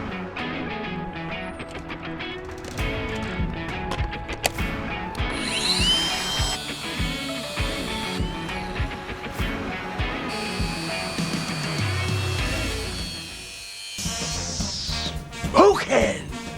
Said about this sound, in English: Let's get the angle grinder, cut that off.